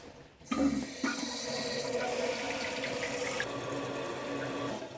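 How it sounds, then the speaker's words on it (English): Water rushing into a toilet tank through a newly replaced fill valve after the supply is turned back on, a steady, close hiss and gurgle that starts abruptly and continues throughout. "Let's check for leaks by turning the water back on."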